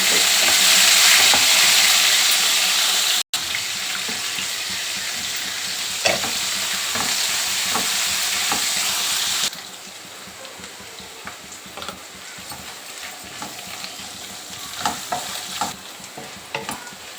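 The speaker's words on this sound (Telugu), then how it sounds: "ఒక నిమిషం మంచిగా ఎర్రగా వేగినాయి కదా కాకరకాయ ముక్కలు" Loud, steady sizzling of bitter gourd pieces frying in hot oil with occasional stirring scrapes, the hiss dropping noticeably partway through and continuing quieter.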